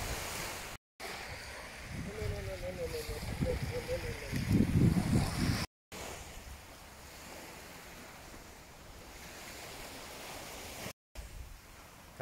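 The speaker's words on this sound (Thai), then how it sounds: "มาสปาหูแบบฟังเสียงคลื่นทะเล" Sea waves wash steadily onto a sandy beach in Pattaya, a continuous near surf roar with wind noise and faint distant voices.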